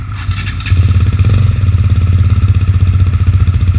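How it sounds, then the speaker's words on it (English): KTM Duke 200 motorcycle engine starting up with a brief clattery crank, then settling into a loud, close, steady idle with a rapid pulsing beat. "Here's a bit of a start-up sound."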